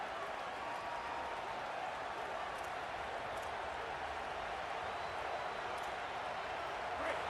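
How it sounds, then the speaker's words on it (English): Steady, dense roar of a stadium crowd in a football video game, a continuous broadband wash of cheering that holds at an even level throughout with no distinct individual voices. "This crowd, full throat, spreading the eardrums and letting them know it's going to be a long day"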